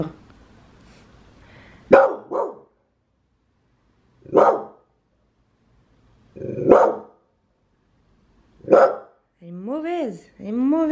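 Close, single sharp barks from a female dog spaced a couple of seconds apart, with a low growl at the start and a high whining yelp at the end.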